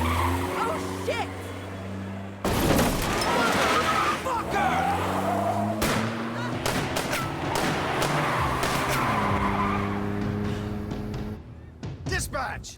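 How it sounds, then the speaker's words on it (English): Cars skidding and crashing in the video game As Dusk Falls, with tire squeal and engine noise, a loud impact near 2.5 seconds and more crashes and thuds later, mixed with game music and voices talking throughout. "They wrecked my fucking car!"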